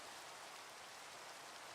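Steady rain falling in the Minecraft video game, a constant soft hiss of drops with no voices, even and unbroken throughout.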